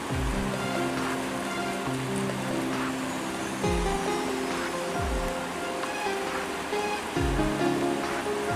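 A Carpathian mountain river flows steadily with continuous rushing, babbling water, moderately loud and close, and a low irregular thumping underneath.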